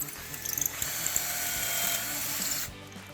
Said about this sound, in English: We're gonna drill right through here and it'll make the angle for the screw to go in.